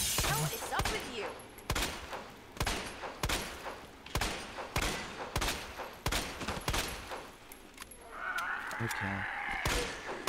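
Repeated gunshots from a firearm in Resident Evil 2, sharp evenly spaced blasts roughly every second across the span, with a brief spoken word and a rising whoosh-like game effect near the end.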